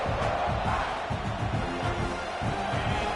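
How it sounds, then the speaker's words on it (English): Home crowd at a Tech vs South Carolina football game roaring steadily at the start of play, a dense, sustained wash of voices with no breaks, heard alone without distinct talk. "this home crowd is fired up and ready to make a difference today"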